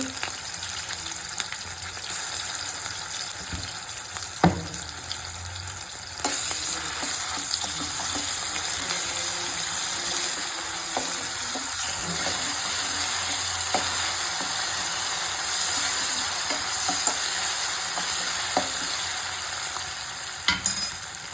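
Onions fry and sizzle steadily in a pan as they are stirred, a loud continuous crackle broken by occasional scrapes and clinks of the spoon.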